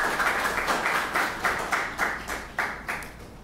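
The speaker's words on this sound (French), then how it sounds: "on a demandé à ce que nous applaudissions Eligent." Applause at a ceremony on Haitian radio and television, a small group clapping in uneven bursts, moderately near, with no talk over it.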